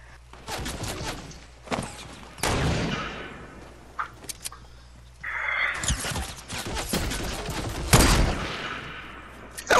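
Sniper rifle fire in a video game, loud sharp cracks arriving in irregular bursts with echoing tails, mixed with lighter clatter and movement sounds.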